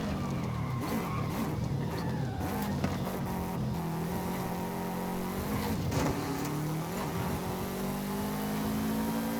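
A car lapping a race track in a racing video game, a loud continuous engine drone with shifting revs and gear changes, steady and close throughout with no talk.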